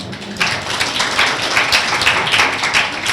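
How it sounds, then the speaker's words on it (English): A small audience at a holiday floral arrangement demonstration claps in a short burst, the patter rising in quickly after a quiet start and holding steady, fairly close and moderately loud. "Can we give him a little applause?"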